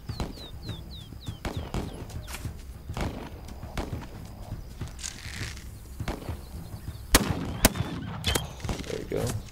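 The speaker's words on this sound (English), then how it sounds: "Stop shooting my horse, man." In a Wild West video game, repeated gunshots crack out against a horse, sharp reports scattered over a steady clip-clop of hooves, with a few louder close blasts near the end.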